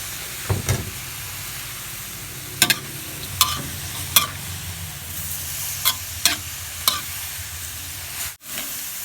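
Onions and garlic sizzle steadily in a hot pan, with intermittent scraping clatters of a utensil stirring and tossing, close by and without talk.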